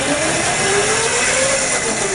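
An electric racing go-kart prototype on a 60V upgrade runs with a steady, loud motor whine and constant broadband noise, holding an even pitch with a slight wavering tone throughout.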